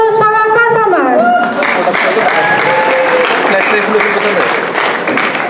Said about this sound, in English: A big round of applause for our performers.